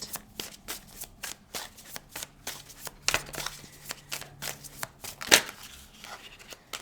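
A deck of tarot cards is shuffled in repeated quick riffles, a rapid run of crisp papery flicks up close, with a louder snap near the end and faint talk in the background.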